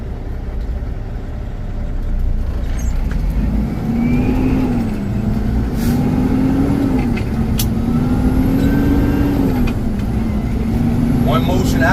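A semi truck's engine drones loud and steady from inside the cab, its pitch rising and dropping as gears are shifted, with talking faintly underneath.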